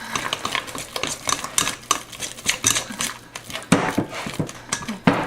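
Gluten-free banana bread batter is stirred in a bowl with a utensil, an irregular run of close scraping taps and clinks against the bowl with no talking.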